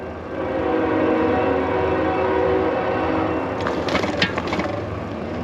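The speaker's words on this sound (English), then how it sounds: "we have a train coming" A train rolls past a rider on an e-bike in town, a loud steady rumble throughout, with horn-like tones and clanks rising near the end.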